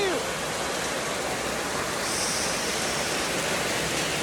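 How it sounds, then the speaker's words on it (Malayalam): Rainwater runs and flows in a heavy downpour, a steady rushing wash of water close by, continuous and even, with no clear voices. "നല്ല മഴയോടെ കളിവെള്ളമൊക്കെ ഒലിച്ച് വരുന്നുണ്ട്"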